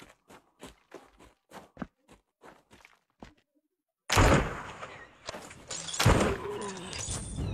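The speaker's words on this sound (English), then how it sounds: "Ooh, another explosion boy." Explosions and gunfire burst out in the VR pirate game Sail, loud and dense, after a run of quieter rhythmic thuds like footsteps.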